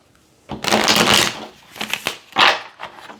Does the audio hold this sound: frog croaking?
no